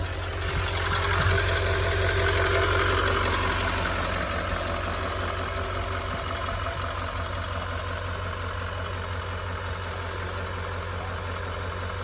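A 2019 Chevrolet Silverado 3500 HD with a 6.6-liter turbo diesel idles steadily nearby, a constant rough, clattering rumble with a high whine that holds level throughout, with no talk over it.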